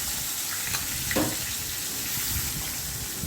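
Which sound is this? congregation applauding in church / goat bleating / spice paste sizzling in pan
spice paste sizzling in pan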